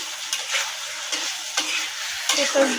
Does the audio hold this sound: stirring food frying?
yes